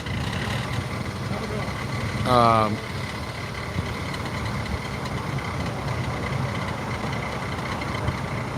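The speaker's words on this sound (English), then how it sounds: "This car's making noise." A car engine hums and rumbles steadily at idle, with a brief rising whine early on, close by.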